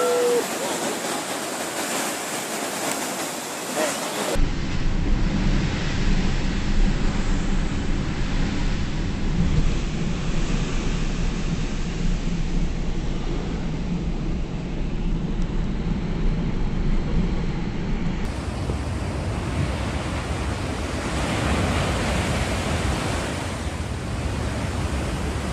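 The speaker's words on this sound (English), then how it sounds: "Two girls enjoy the waves of sea foam at a beach in Newcastle, Australia." Ocean waves and thick sea foam washing over a beach in Newcastle, Australia, as a loud, steady roar of surf with broadband rushing noise that shifts in character partway through, continuous and without speech.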